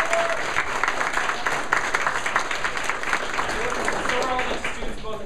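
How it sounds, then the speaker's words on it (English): Sustained applause from a large audience at a talk, dense clapping that stays steady throughout, with a few voices faintly mixed in. "Both of them deserve a round of applause"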